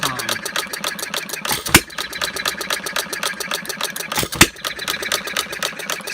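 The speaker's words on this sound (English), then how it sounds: "On a hit-miss engine, in case you don't know, the miss cycles, during the miss cycles, the exhaust valve is held open" A half-scale Breisch Olds hit-and-miss gas model engine runs with a rapid, even mechanical clatter, punctuated by two loud firing bangs spaced a few seconds apart.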